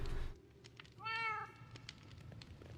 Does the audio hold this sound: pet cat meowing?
yes